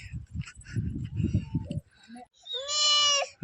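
Near the Chanda fort in Chandrapur, Maharashtra, a goat gives one loud, quavering bleat close by, right after a stretch of talking.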